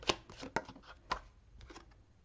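A deck of tarot cards is cut by hand, giving three quiet, sharp card slaps about half a second apart, each followed by soft rustling and sliding of the cards.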